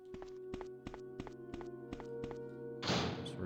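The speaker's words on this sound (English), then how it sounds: "And then I'm gonna reload." A weapon reload in Resident Evil: a steady series of about nine sharp mechanical clicks and thunks at an even rhythm, followed by a brief hissing burst at the end, all close and fairly quiet.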